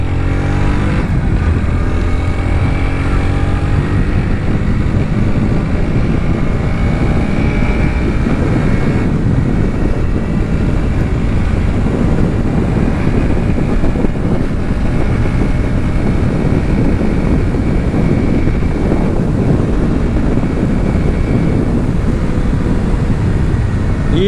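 Bajaj Pulsar NS 125 motorcycle with a carburettor engine, riding at speed on a road, its engine droning loud and steady for a long stretch under heavy wind rush, with no talk.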